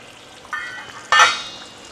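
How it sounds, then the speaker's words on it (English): Buffalo chicken wings fry in hot oil, a soft sizzle with a short crackle and a louder hissing burst after a second that slowly fades. "So that's all frying up beautifully."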